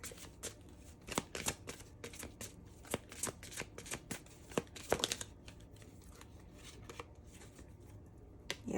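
Tarot cards being shuffled by hand, close and quiet, with irregular crisp riffles and snaps of card stock spread across the clip, no talking.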